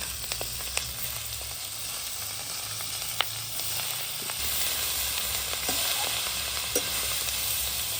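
Wild greens (shak) hit a hot pan and sizzle steadily at close range, with scattered crackles and a hiss that grows slightly louder toward the end, with no speech.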